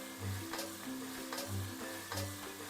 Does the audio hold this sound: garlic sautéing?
yes